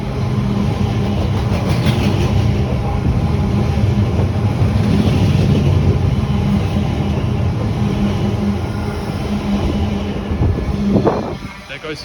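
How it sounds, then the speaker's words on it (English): A Great Western Railway IET train runs through Acton on the Great Western Main Line, a loud, continuous rail rumble and wheel clatter holding close for several seconds before easing slightly near the end. "passing through now is a Great Western Railway IET"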